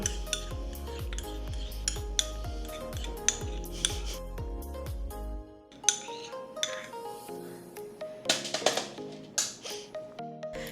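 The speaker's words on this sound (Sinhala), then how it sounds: "බිස්කට් ටික හොඳට මික්ස් කරගන්න බටර් එකත් එක්ක" Crushed Biscoff biscuits and butter are mixed in a bowl. Background music plays first, then a run of spoon clinks and scrapes against the bowl comes through alongside it.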